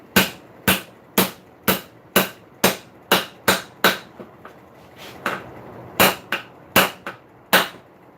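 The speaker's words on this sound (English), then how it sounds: "Hammer, nail." A hammer drives a nail into an old stump at a forge, with about fourteen sharp, loud metallic strikes in an even rhythm, a short pause partway through, and no talking.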